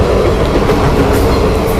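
A night train passing close on a railway track in Trivandrum, a loud steady rumble and roar of rolling wagons with faint wheel clatter and no pause.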